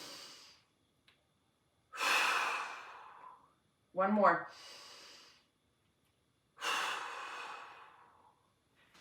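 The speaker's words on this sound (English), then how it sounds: "We're going to go 3 decompression breaths. As you exhale, pull your abdomen in." Decompression breathing exercise: three long, forceful exhalations with the abdomen pulled in, each a breathy whoosh lasting a second or two, one with a snorting, fluttering edge, close up with silence between breaths.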